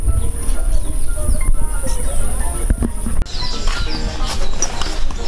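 Birds call outdoors along a plank walkway, a few chirps and coos scattered over a busy background of footsteps and outdoor noise, with a person talking at times.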